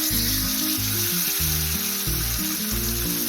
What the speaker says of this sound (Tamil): இப்போ நான் எண்ணெயில் பொரிச்சு எடுக்க போகிறேன்.